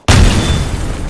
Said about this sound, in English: Dazzling explosion!